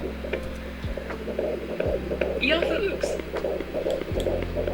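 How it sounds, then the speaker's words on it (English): Deep rhythmic throbbing pulses of a baby's heartbeat on an ultrasound in The Sims 4, a few slow whooshing beats over a steady low hum, with faint voice-like sounds in the background. "Can you guys hear the heartbeat?"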